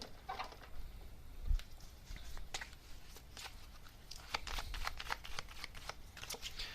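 Tarot message cards being shuffled nearby, a run of crisp riffling taps and soft card-on-card patters scattered irregularly across the stretch, moderately quiet with no voices.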